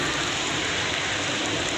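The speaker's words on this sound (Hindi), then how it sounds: "बट बारिश हो रही है यार।" Steady rain falls continuously, a dense even hiss of drops with no gaps, fairly close and moderately loud, no voices.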